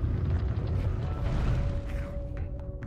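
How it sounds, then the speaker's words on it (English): A flashbang goes off in the underwater video game Dave the Diver, a deep, rumbling boom with a creaking mechanical resonance and a lingering low hum that fades over a few seconds. "Flashbang."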